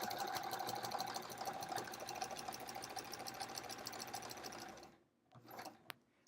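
Sewing machine running steadily as it stitches a sampler quilt, a fast continuous rattling drone for about five seconds that stops abruptly, followed by a few soft handling clicks.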